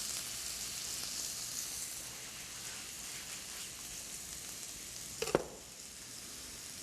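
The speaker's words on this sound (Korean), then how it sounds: "버터가 어느 정도 녹아지면 바로 여기에 양파 넣어주시고요" Onion and garlic frying in melted butter in a pan, a faint, even sizzle with one sharp clink of a utensil near the end.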